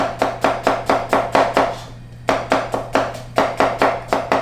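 A knife julienning onion on a cutting board, sharp rapid chops falling in quick even bursts, loud and close, with one brief pause partway through.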